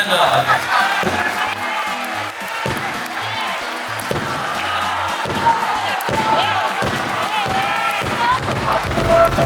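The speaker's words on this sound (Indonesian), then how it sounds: "Ya, tepuk tangan dong." A school audience at an education expo at SMAN 1 Bukateja applauds and cheers, a loud crowd din with heavy thumps and shouts throughout.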